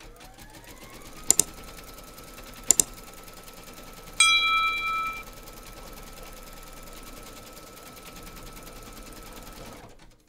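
An embroidery machine runs a stitching round on an in-the-hoop teddy and unicorn bag, a steady soft mechanical rattle broken by a few sharp clicks and a short louder whir near the middle.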